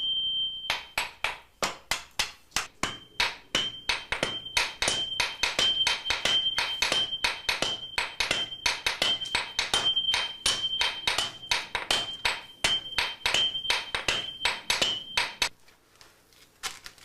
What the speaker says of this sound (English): The commands of the swordsmith's hammer is all that is required.